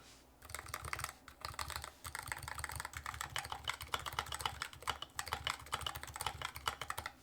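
Rapid continuous typing on a Dao mechanical keyboard with blue-tinged keycaps and tuned stabilizers, a close, steady clatter of keystrokes with no talking.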